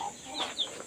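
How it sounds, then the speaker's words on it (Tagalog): A few short clucks from chickens, fairly close, with faint background noise and no talking. "Yung mga manok."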